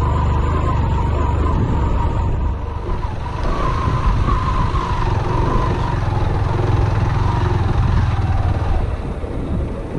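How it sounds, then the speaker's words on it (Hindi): Motorcycle engine labouring in first gear up a steep, difficult mountain road near a hill village in Mianwali district, a loud, continuous strained drone heard up close with wind rumble. "मोटरसाइकिल पहले गियर में भी बहुत मुश्किल से चढ़ रहा है ये तो।"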